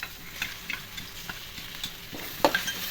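Onions sizzle while frying in a pan with ginger garlic paste for a fish curry, a steady close sizzle broken by intermittent scraping stirs and small ticks.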